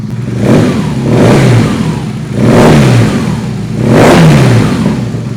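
A BMW R nineT motorcycle engine at operating temperature revs three times in a row, each rev rising and falling back to a rumbling idle, loud and close.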